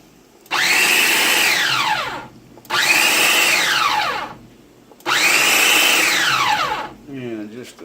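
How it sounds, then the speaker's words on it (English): Food processor pulsing mushrooms with olive oil: three loud whirring bursts of about two seconds each with short pauses between, motor pitch rising and then falling each time, and a brief rattle at the end. "Pulse down these mushrooms"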